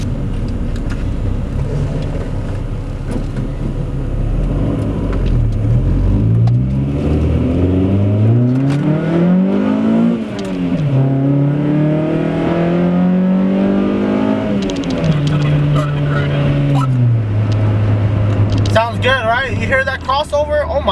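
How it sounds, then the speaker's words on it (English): A Honda H23A JDM engine in a Prelude on a mountain touge run revs hard with VTEC engaging, the pitch climbing and dropping through several loud sweeps before holding a high, steady drone. "you guys want to hear VTEC and the H23A? This is going to be VTEC and the H23A JDM motor."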